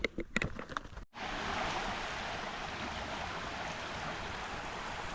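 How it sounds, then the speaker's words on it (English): A flowing creek along the Pacific Crest Trail gives a steady, moderately close rush of water after a brief burst of handling noise at the start, with no talking. "This is the pretty creek where I am taking lunch."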